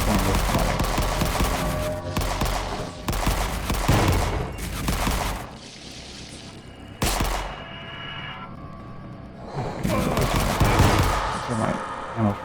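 Pistol gunfire in the video game Forgive Me Father, loud sharp shots in clustered bursts separated by short pauses, punchy and close throughout.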